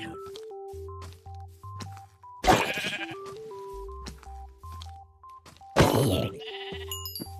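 Zombie villager sounds from Minecraft 1.11 come as two loud, nasal, bleat-like groans over quiet game music with soft melodic notes and low tones.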